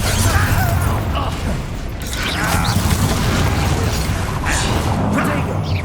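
Confringo fire spell cast during a Hogwarts Legacy combat encounter, a dense burst of magical impacts and crackling bursts running continuously amid loud battle effects, with speech-like voices mixed in.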